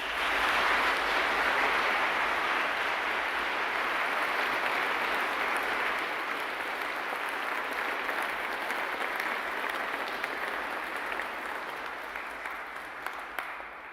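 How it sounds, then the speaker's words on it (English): Sustained applause from a large audience at a university graduation ceremony, a dense, even wash of clapping that holds steady for most of its length before slowly thinning toward the end, with no voices over it. "with a round of applause"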